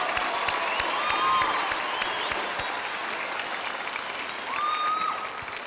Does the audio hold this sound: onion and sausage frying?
no